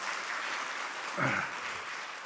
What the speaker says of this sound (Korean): 다시 한번 우리 박수 한번 해주시면 감사하겠습니다.